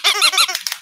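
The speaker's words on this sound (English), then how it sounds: "so I got to give her a double squeaky too" Squeaky toy squeezed twice in quick succession, producing two loud, close, high-pitched squeaks with nothing else around them.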